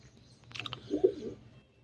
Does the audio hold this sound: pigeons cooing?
yes